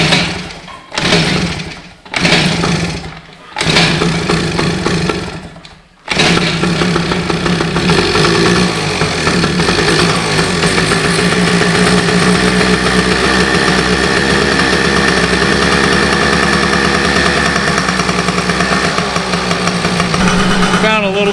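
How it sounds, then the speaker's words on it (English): Yamaha PW80 dirt bike engine being kicked over several times in short cranking bursts, then catching and running steadily at a loud, close buzzing idle that holds to the end. "Let's see if this thing will fire up and run through a couple gears."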